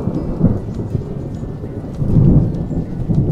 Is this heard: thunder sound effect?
yes